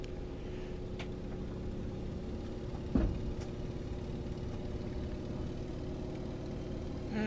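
A simulated Antonov An-2 Colt radial engine in Microsoft Flight Simulator drones steadily at a low, even pitch through a takeoff run, fairly quiet and unbroken apart from one brief knock midway.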